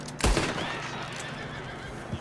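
A horse in a video game gives a loud whinny right at the start, trailing off into a wavering tail, with faint hoof clops and a low thud at the end.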